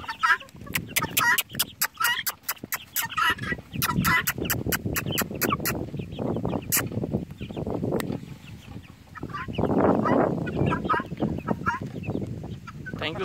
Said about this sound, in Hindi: ये मेल चिका है।